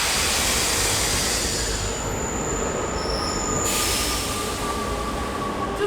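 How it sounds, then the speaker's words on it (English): A metro train rumbles loudly through a dark underground station in Rome, wheels screeching with sustained high metallic squeals over a constant roar. "We're in a very dark metro right now, waiting on our train."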